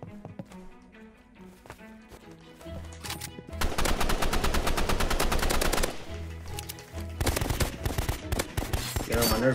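Automatic gunfire in the Roblox game Rivals: scattered single shots at first, then loud, rapid sustained bursts, a brief pause, and another long burst near the end.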